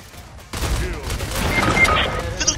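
Rocket launcher fire in the video game Splitgate: a sudden blast bursts in after a brief quiet start, followed by a dense, continuous roar of gunfire and explosive noise that stays loud to the end.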